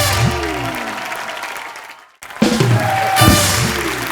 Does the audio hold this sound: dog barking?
no